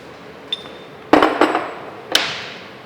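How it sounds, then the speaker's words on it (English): A metal handle is pulled off a milling machine vise, giving a short clink, then a sharp loud metallic clatter with ringing, and one more bright clank a second later, close by in a quiet workshop. "always remember to remove the handle from your vise"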